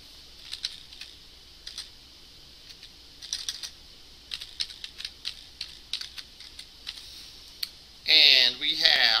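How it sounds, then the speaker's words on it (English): Fast clicking bursts of typing on a computer keyboard, quiet and close, in short irregular runs with pauses, ending in a louder burst of other noise. "let me go here and type in localhost."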